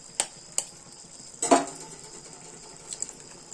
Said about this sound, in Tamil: இப்போ முட்டை உடைச்சு போட்டுக்கலாம்.